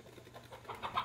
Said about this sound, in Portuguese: Ih, que essa galinha voou assim?